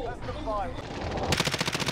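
Exchange of gunfire in a shooter video game, a fast, evenly spaced burst of automatic shots arriving in the second half after a muffled stretch, moderately loud.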